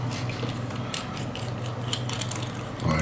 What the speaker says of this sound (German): Jetzt schrauben wir weiter los.